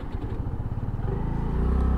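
A 2022 Honda Navi scooter engine, with a carburetion issue, restarts on choke after stalling; a close, steady low idle chugs and rises slightly in level throughout, with no talk.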